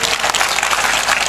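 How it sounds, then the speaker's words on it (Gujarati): Audience at a political rally clapping, a brief, dense burst of applause from many hands, fairly loud and even throughout. "એકવાર તમારા માટે તાળીઓ થઈ જાય સાહેબ"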